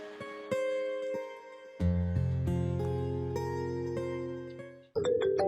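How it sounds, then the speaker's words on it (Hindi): A mobile phone rings with a melodic electronic ringtone in a Hindi family drama scene, sustained tones repeating for several seconds and cutting off near the end, loud and with no talking. "अरे ये तो सपना का फ़ोन है"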